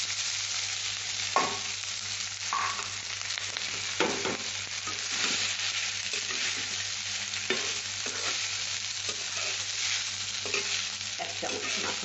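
Leftover cooked rice is tipped into a frying pan with butter and stirred, giving a continuous sizzle under repeated scraping and clinking strokes from a spoon, close up and with no speech.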